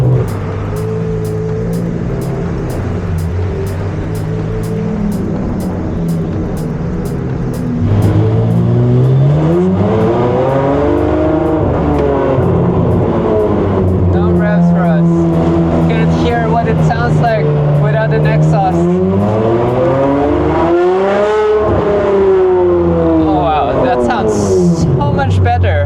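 A Ford F550 truck engine revs up and down repeatedly, its pitch climbing and falling in long sweeps. The sound is loud and close, with a steady rumble underneath.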